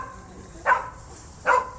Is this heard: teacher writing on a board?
no